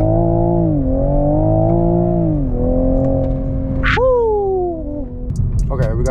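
A 2022 Toyota Supra GR accelerating hard in first gear, its engine rising in a loud steady pitch climb before a quick upshift, heard from inside the cabin with a brief exclamation from the driver near the end.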